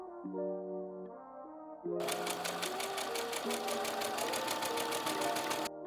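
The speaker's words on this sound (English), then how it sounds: "Please sew 1/8 inch from the edge, or directly on top of the zigzag stitches." A sewing machine runs steadily and loud for several seconds, top stitching close to the edge of a fabric piece for a child's summer top. A low tonal hum comes before the stitching starts.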